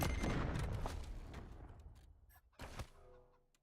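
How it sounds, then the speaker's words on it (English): Rapid bursts and booms from explosions in the video game Wasteland 3, a loud dense barrage at the start that fades, then a couple of sharp blasts near the end. "I didn't die to all those explosions"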